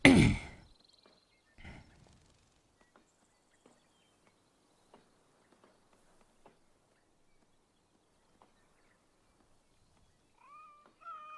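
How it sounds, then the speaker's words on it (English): A cat in the video game Assassin's Creed Valhalla meows while being petted, one clear meow at the start and another near the end, with soft, sparse footstep-like taps in the quiet between. "I'm going to pet the little kitty."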